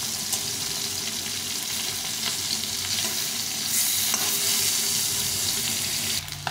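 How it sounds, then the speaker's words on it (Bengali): Shol fish frying in hot oil in a pan, a loud continuous close sizzle with light crackle throughout and a small clink near the end, no talk. "এইভাবে করে আমি দুপাশে ভেজে নেব। খুব কড়া করে ভাজবো না, মিডিয়াম করে ভেজে নেব।"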